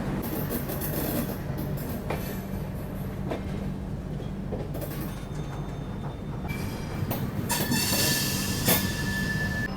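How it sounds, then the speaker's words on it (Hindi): The 12487 Jogbani–Anand Vihar Seemanchal Superfast Express passes close by at the outer of a Delhi station at night, with a steady loud rumble of coaches and wheels, rising in the last seconds with a brief high wheel squeal. "यहाँ DDO के आउटर पे अपनी मुलाकात हो रही है 12487 जोगबनी आनंद विहार सीमांचल सुपरफास्ट एक्सप्रेस से।"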